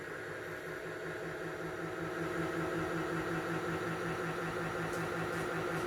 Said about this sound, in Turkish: Motordan hiçbir ses gelmiyor. Sadece çarkın ve sepetin sesi geliyor.